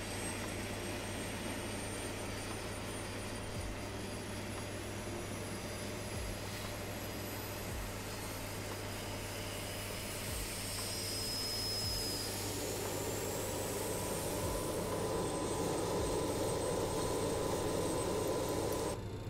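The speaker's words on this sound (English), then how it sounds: "Let's start the APU. And you can hear it spooling up in there." A jet auxiliary power unit in Microsoft Flight Simulator spools up, a steady whine and roar rising gradually in intensity, with a thin high tone sliding upward over a constant low hum.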